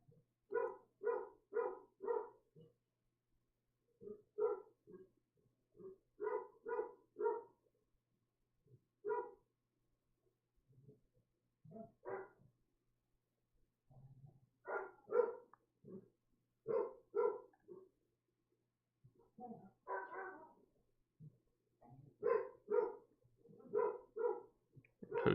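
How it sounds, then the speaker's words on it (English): A dog barks repeatedly in quick bursts of two to four, faint and distant, with pauses between volleys throughout. "I apologize for the barking in the background"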